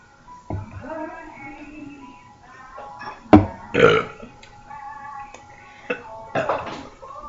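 Several loud burps erupt in a burping contest, short throaty croaks spaced unevenly, the biggest ones punchy and close, with some faint clatter between them.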